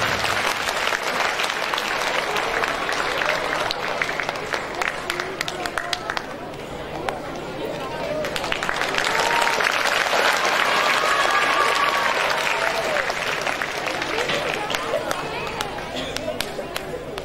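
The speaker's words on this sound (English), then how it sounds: "clap your hands and appreciate him on his grand success" A school audience applauds an award winner at a Children's Day teachers' skit, with dense, sustained clapping throughout that swells in the middle and continues steadily, mixed with faint crowd murmur.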